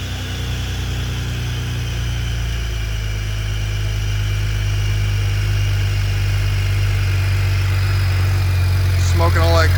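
A 2008 BMW E90 335i inline-six with upgraded turbos and about 200k miles idles close by, a steady low rumbling hum with faint vibration that grows slightly louder toward the end, where a brief voice cuts in.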